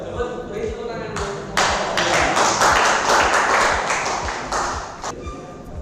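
A classroom of students gives brief applause for a presenting group, a burst of close, loud claps that swells in the middle and tapers off while a voice talks faintly underneath.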